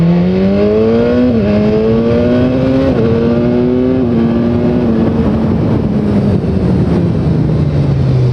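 A 2015 BMW S1000R inline-four motorcycle engine pulling hard through the gears, loud and close, its pitch climbing in steps with brief drops at each shift, then a long easing wind-down.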